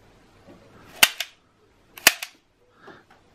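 A toy cap gun fires two sharp, close snaps about a second apart, each followed by a quick smaller crack, with quiet in between.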